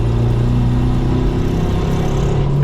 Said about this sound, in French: Je passe la seconde, ça broute un peu parce qu'il n'y a pas de couple. Et après on accélère à fond.